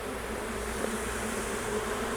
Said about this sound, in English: a swarm of bees is very docile